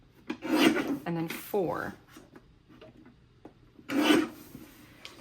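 A paper trimmer slides through 6 by 12 scrapbook paper, making two short rasping cuts a few seconds apart. A person talks briefly between them.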